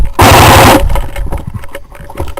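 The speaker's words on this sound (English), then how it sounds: "they're fucking blind firing" Airsoft guns fire blind during a game at Cardiac Hill. A loud, rapid burst of shots lasts about half a second, then scattered, quieter rattles and clatter follow nearby.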